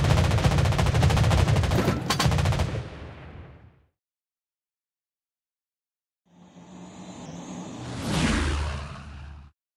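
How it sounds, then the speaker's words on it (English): Anti-aircraft guns blaze in World of Warships Blitz around the Tier 9 French cruiser Brest, a dense, loud burst of rapid gunfire for several seconds, then silence, then a second swelling barrage with a whooshing rush. "anti-aircraft gun on full alert"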